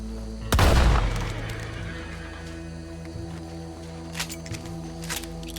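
A single loud gunshot booms near the start in Red Dead Redemption 2 and decays into a long reverberant tail, followed by quieter game ambience with faint scattered clicks.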